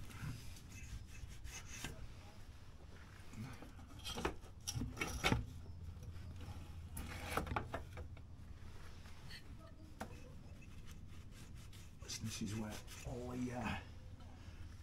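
A cloth is wiped over the chain and rear shock of a Honda NC750X DCT motorcycle, giving faint, irregular rubbing and scrubbing strokes close by in a quiet space, with some low talk in between.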